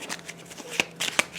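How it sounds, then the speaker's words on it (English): A deck of board game cards is shuffled by hand nearby, giving a run of quick papery riffles and snaps with a couple of sharper bursts toward the end. "I'm going to keep shuffling it until we get some normal cards"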